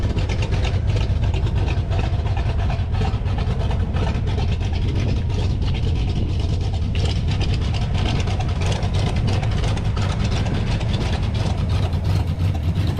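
A vintage British roadster with a Ford engine idles, its exhaust giving a steady, deep low rumble that holds evenly for the whole stretch, close by, with no one talking.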